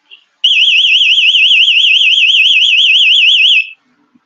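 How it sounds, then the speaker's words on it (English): A haunted attraction's electronic alarm sounds one loud, steady warbling tone for about three seconds, then cuts off, with no talk over it. "Did you hear the alarm, the sound?"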